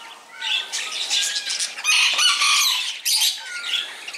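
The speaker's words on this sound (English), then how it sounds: "another cage with chickens this time and parakeet" Chickens kept in a cage with parakeets, giving off clucking and flapping sounds with bright chirps mixed in, moderately close and continuous with no talking.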